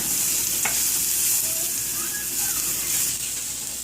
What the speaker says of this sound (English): Now I have to cook along with all the spice till it's get well mixed.